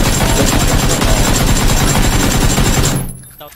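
Loud, rapid automatic gunfire crackles in the video game PUBG, a dense, continuous burst of shots that cuts off abruptly near the end, leaving a brief quieter tail.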